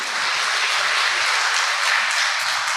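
A church congregation clapping in praise to God, dense and sustained applause from many hands filling the whole short stretch.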